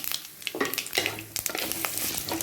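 Mustard seeds and a pinch of asafoetida crackle and sizzle in hot oil in a pan, with sharp pops and spits scattered over a steady close frying hiss, no talking.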